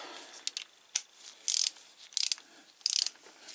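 Ratchet wrench with a 12 mm socket tightening a rocker adjuster on a BMW R60/5 motorcycle engine, heard as three short bursts of quick metallic clicking with light taps between them, close and fairly quiet.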